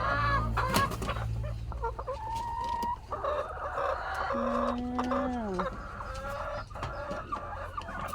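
Chickens clucking and a rooster crowing close by during egg collection in a coop, with overlapping calls and squawks.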